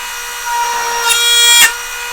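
A Dremel rotary tool mounted in a workstation whines at a steady high pitch, rising as it plunge-cuts into wood with a brief grinding bite, loud and close, with no talking.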